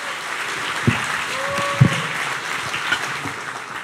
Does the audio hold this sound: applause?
yes